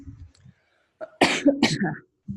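A single sharp cough close to the mic, a quick double burst after a faint throat noise, then quiet.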